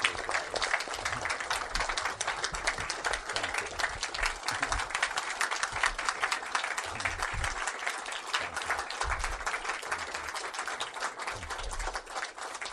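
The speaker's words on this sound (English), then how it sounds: "let's give all these quarter calf guys a round of applause for their service" Audience applause honoring Vietnam veterans on stage, a long, even wash of many hands clapping that holds steady throughout with no talk over it.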